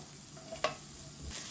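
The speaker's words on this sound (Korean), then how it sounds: "식용유에다가 마늘하고 파를 볶아서 마늘과 파 향을 내주겠습니다" Garlic and green onion stir-frying in cooking oil in a wok, a quiet steady sizzle with a sharp scrape of the spatula midway and a softer stir near the end.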